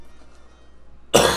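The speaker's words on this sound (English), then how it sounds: "I'm gonna keep coughing and dying." A single short cough bursts out suddenly after a near-silent stretch, close and fairly loud.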